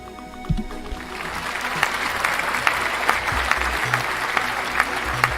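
Canned applause from a sound effect button, a steady wash of crowd clapping that runs loud and unbroken for several seconds, with a few sharper claps poking through.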